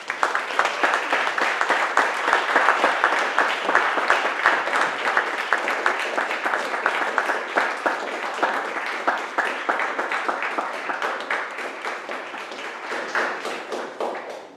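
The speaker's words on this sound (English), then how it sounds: "can we give Jemar Tisby a round of applause?" An audience at a talk event bursts into sustained clapping that carries on steadily for over ten seconds before tapering off.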